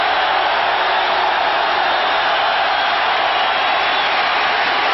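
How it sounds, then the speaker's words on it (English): Dense, steady roar of a football stadium crowd urging on the Dallas Cowboys with Herschel Walker in the third quarter, a loud, unbroken wash of massed voices with no distinct words. "Crowd imploring the Cowboys to get with it."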